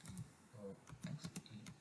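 Fingers tapping out a password on a computer keyboard, a quick uneven run of close, light key clicks with short gaps between bursts.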